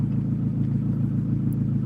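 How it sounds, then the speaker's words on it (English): Car exhaust running in normal mode with its valve stuck open, a steady deep rumbling drone held close and even with no talk. "The exhaust is supposed to change, but the exhaust hasn't changed, so the valve is still on."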